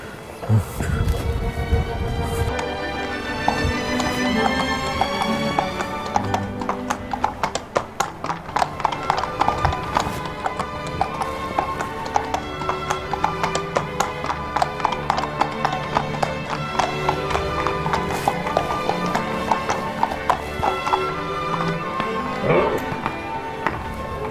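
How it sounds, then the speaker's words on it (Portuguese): Horses walking at a stud farm of stallions and ridden horses, their hooves clip-clopping in a steady, close rhythm on a hard surface, with an occasional whinny and faint background voices. "vamos fazer a nossa volta aqui da parte dos garanhões e dos cavalos montados"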